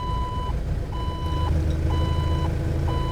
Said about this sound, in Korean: 후진기어 하면은 소리가 납니다. 삐삐삐.